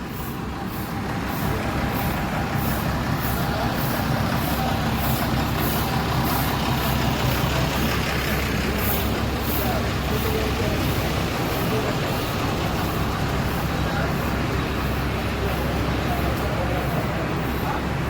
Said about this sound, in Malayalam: എല്ലാ bus പ്രൈവറ്റും K S R T സിയും ബസ്സൊക്കെ ഈ സൈഡിൽ നിന്ന് നിൽക്കുക